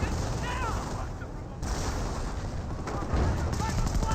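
A 25-pounder artillery barrage in the video game Company of Heroes pounds away as a continuous, loud roll of booms and gunfire, with overlapping impacts throughout.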